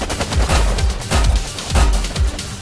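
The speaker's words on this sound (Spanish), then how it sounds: "Son bombas." Bombs burst in the Warpips war-strategy video game, a rapid string of loud, punchy blasts and crackling impacts arriving in close, uneven clusters for under three seconds.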